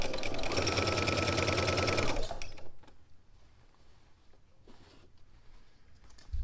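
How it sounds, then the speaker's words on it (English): A sewing machine runs steadily for about two seconds, stitching around fabric for a swimsuit cover-up made from a robe pattern, then stops abruptly, leaving quiet handling noises. "I'm just going to go ahead and sew the whole way around, following that mark and making sure that I keep my fabric nice and flat"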